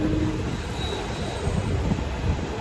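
A TPJ-PGT passenger train hauled by a WAP-1 electric locomotive runs between Erode and Coimbatore, a loud steady rumble of wheels on rail with faint squeal and rhythmic rattling, heard from on board.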